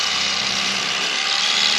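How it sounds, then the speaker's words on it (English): An electric knife runs as a steady, high-pitched buzzing whine while filleting a fish outdoors, a continuous close motor drone with no pauses and no talking. "And then just turn your electric knife"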